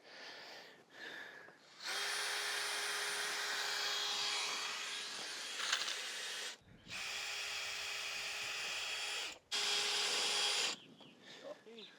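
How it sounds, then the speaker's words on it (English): A power drill drives fasteners while fish habitat is connected to a block adapter for a pond, running in three sustained bursts with brief pauses and a whining pitch, fairly close; people talk faintly around it. "now we gotta drill that in there"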